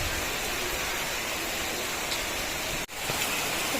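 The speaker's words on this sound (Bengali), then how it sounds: "দেখো কি পরিমাণ বৃষ্টি হচ্ছে" Heavy rain pours down in a dense, unbroken roar, loud and close, with a momentary dip near the end.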